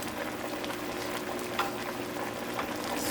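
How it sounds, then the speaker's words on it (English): Belgian beef stew (carbonnade flamande) being stirred in a simmering pot, a steady bubbling sizzle with faint scraping of the spoon, close and continuous without talk. "Stir it up."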